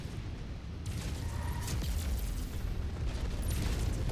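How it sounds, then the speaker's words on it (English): A big explosion in the mech combat game MechWarrior 5: Mercenaries: loud, sustained rumbling blast noise with crackling bursts, filling the whole stretch without speech. "That was a big explosion."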